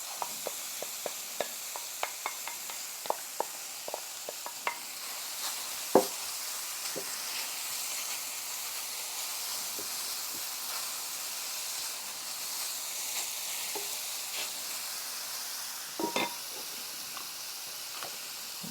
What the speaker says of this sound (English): I think now is the time we're going to add some mushrooms.